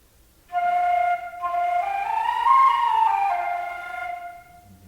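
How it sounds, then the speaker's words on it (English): A single sustained flute note played with flutter tonguing, a buzzing, rolling flutter texture, clear and alone, lasting about four seconds before fading. "Flutter tonguing is a wind instrument tonguing technique where performers flutter their tongue to make a characteristic sound"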